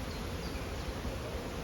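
A dense, steady hum of many honey bees buzzing together in a hive, close and continuous, with no voices.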